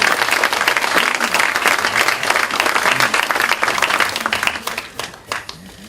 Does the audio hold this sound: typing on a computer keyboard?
no